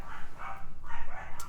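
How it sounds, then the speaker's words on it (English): Dogs in a home bark in a quick run of sharp, moderately loud barks with short gaps, several overlapping yaps carrying on through the whole stretch with no talk. "They bark at literally everything."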